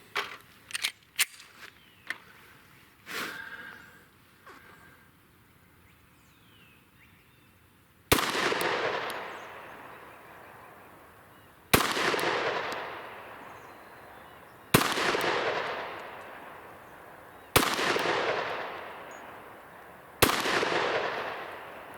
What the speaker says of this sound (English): So I'm going to start out with the Glock 29. We'll shoot 5 rounds of each.